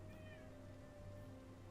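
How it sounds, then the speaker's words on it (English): A cat cries in a plaintive, drawn-out wail, faint and fairly distant behind a steady electrical hum and low background murmur. "I heard a cat crying."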